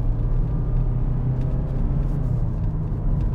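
A Mazda CX-3 accelerates on the road, a steady low engine rumble with road noise heard from inside the cabin, constant and fairly loud with no talking.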